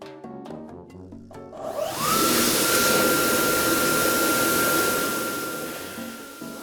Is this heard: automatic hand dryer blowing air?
yes